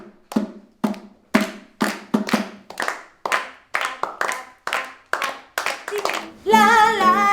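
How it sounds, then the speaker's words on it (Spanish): An audience claps along in a steady rhythm, copying the pattern of a guitar: about a dozen sharp, evenly spaced group claps, close and loud, then a sustained sung or strummed tone takes over at the end. "Todo el mundo, preparen sus palmas, repitan con sus palmas lo que hace la guitarra."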